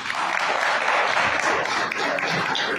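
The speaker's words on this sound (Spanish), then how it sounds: "Ahí los aplausos para mi grande" Crowd applauding a speaker at a football association anniversary event, dense sustained clapping filling the clip, fairly close and even.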